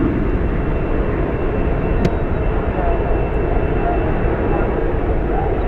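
A jet airliner landing at night at Dallas/Fort Worth airport with thrust reversers deployed produces a loud, steady, continuous engine roar and rumble, with a brief faint click partway through.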